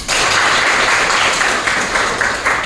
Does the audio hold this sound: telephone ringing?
no